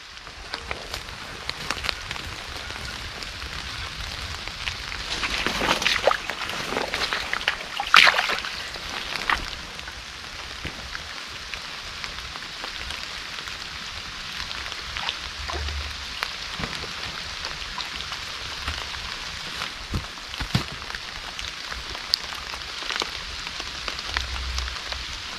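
Heavy rain pouring down in a forest near an earthen dugout shelter, a steady dense hiss of drops on foliage and surfaces that continues without a break, with occasional louder splashes and no talk.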